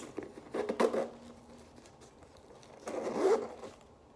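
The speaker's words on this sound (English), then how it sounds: "I love that this zipper is so smooth." Two smooth zipper pulls on a YSL Lou Mini Camera Bag, close up, each a short soft rasp with a quiet pause between them.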